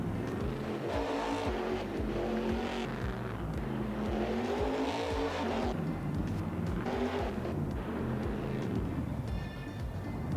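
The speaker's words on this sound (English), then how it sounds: "It sounds like a freaking race car." A modded truck engine in Farming Simulator 22 revs hard and repeatedly, rising and falling in pitch as the truck accelerates, loud and close throughout.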